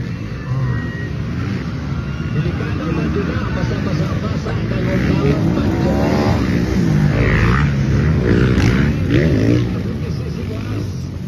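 Honda motorcycles roar through a final race heat, engines droning and revving loudly and continuously under an excited commentator and crowd babble.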